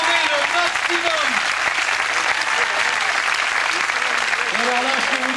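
A crowd applauds an exhausted race walker at a 100 km walking race in Perpignan, sustained loud clapping throughout with voices talking and calling out over it.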